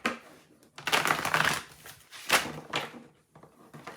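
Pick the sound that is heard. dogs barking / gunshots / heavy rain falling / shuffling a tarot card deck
shuffling a tarot card deck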